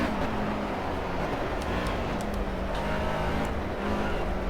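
A BMW M3 GT race car under throttle on a wet Monaco circuit in Project Cars, a steady loud engine drone with tyre spray hiss and faint pitch wavers as revs hold.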